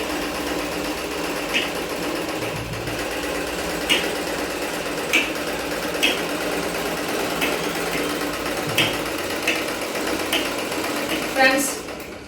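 A pedal-operated sewing machine runs continuously with a steady whirring hum and periodic light clicks, close by, with faint voices at times.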